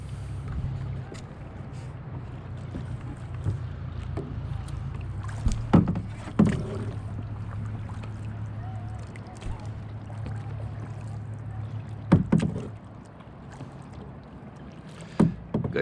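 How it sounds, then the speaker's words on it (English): A kayak is paddled on Sweet Arrow Lake, with soft water swishes and occasional paddle knocks and splashes over a steady low hum of wind and ambient noise, fairly quiet and close. "We're gonna go around and check out how she does paddling a little bit and go from there."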